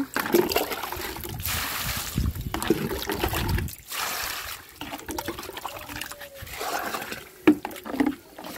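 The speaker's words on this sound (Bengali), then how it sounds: "এই তো এখন অ্যালোভেরা গাছে পানি দিলেই হয়ে যাবে" Aloe vera and mango plants are watered outdoors in bright sun, with water splashing and trickling into soil and pots in uneven bursts, close and fairly loud, with short pauses between pours.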